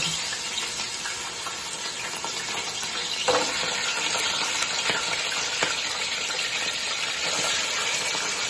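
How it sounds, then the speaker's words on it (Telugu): Mutton pieces coated in yogurt, salt and chilli spices fry in oil in a pot on a stove for Hyderabadi nalli gosht biryani, giving a dense, steady sizzle up close with one brief knock partway through and no voices. "స్టవ్ మీద నూనె పోసి ఇవన్నీ అందులో వేసుకుందాం."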